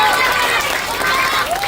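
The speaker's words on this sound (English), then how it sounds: "Keep clapping, don't stop, don't stop." An audience claps at an outdoor school building ceremony, a continuous close patter of many hands with a voice faintly heard underneath.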